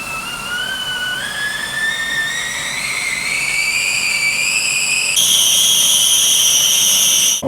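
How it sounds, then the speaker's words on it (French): A kettle whistles as water boils for herbal tea, a steady shrill tone that rises gradually in pitch and then jumps higher near the end, loud and close with no talking. "dès que la bouilloire siffle, hein, que c'est bien fumant, on arrête l'eau"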